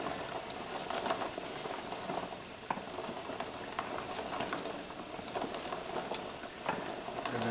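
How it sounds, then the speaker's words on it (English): Quail eggs being stirred in a pot of boiling water, with a steady bubbling patter and light knocking of the eggs, continuous and fairly close. "And you just kind of just stir them up."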